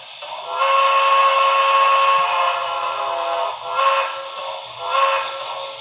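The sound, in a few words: steam locomotive whistle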